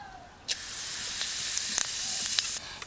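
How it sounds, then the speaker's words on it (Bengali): A sharp sizzle erupts and continues as cumin seeds crackle in hot mustard oil left from frying fish, with a few faint pops and clicks. "মাছ ভাজা তেলের মধ্যে আমি ফোড়ন দিয়ে দেবো জিরে"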